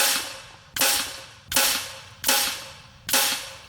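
An FX Impact M4 PCP air rifle fires four sharp shots at even intervals of roughly three-quarters of a second, each a loud, close crack with a short fading tail.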